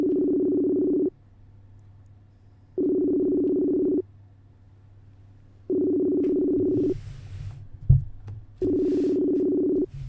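A telephone call's ringback tone repeats in long, evenly spaced buzzing pulses, four tones with silent gaps between them, close and clear, with a brief rustle or knock between the third and fourth rings.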